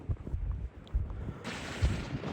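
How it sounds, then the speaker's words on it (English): Strong wind buffets the microphone on an exposed winter hillside near Llyn y Fan Fawr, in low rumbling gusts that rise into a louder, broader rush partway through. "Wherever I go, it's just so windy."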